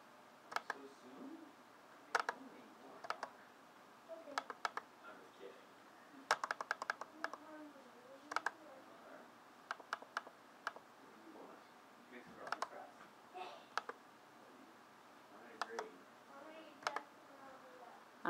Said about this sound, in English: So I'm typing in negative 50